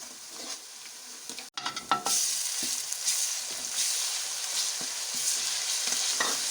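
Ginger garlic paste fries with a steady bright sizzle, broken by occasional scraping stirs and clinks of a spoon in the pan.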